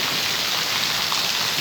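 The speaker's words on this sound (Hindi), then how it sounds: "आज जनाब भाई बारिश हो रही है, बड़ा कमाल का मौसम बना हुआ है" Summer rain falling steadily outside a wood shop, a dense, even hiss of drops on surfaces, loud and close with no pauses.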